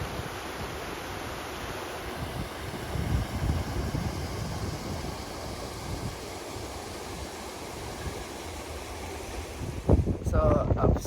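Cold wind gusting across a hilltop on the Cateran Trail in below-freezing weather, a steady roaring buffet on the microphone with swelling gusts, and a rustle of handling near the end.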